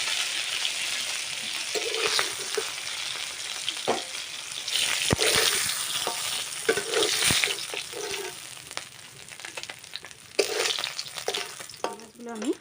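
Fish frying in oil gives a steady, fairly loud sizzle for the whole stretch, broken by scattered clinks and scrapes from a utensil moving the pieces in the pan.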